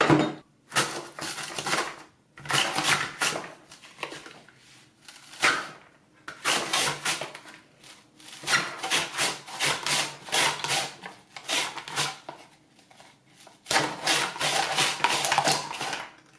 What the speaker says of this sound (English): You can actually get chopped onions with the julienne insert. What you do is just cut the onion twice.